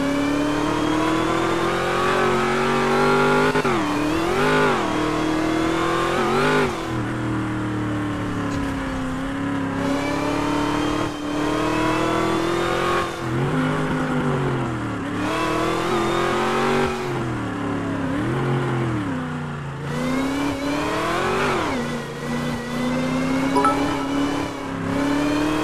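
A car in GTA 5 revving and accelerating steadily, its engine droning loud and close throughout with rising and falling pitch as it shifts gears.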